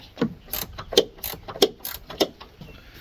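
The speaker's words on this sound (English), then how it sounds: "I've just got a gear wrench, ratcheting wrench, and we're gonna lefty loosey these right off of here" Ratcheting gear wrench loosening the strut nuts on a Dodge Grand Caravan minivan during a front-end rebuild, a close series of about six quick metallic clicking bursts in an even rhythm.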